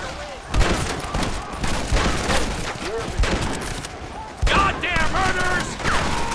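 Rapid bursts of video game gunfire fill a chaotic battle scene, loud and continuous, with overlapping shots and machine-gun fusillades under shouted voices.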